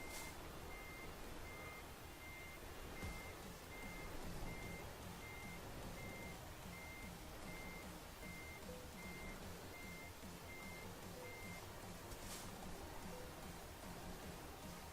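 A truck's reversing alarm beeps in a steady, evenly spaced series in the Euro Truck Simulator 2 driving game, sounding over a constant engine rumble and rain-like noise before stopping.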